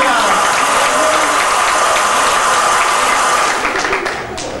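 Wedding guests applaud loudly in a dense, continuous wash of clapping that holds steady throughout and eases off slightly in the last moment.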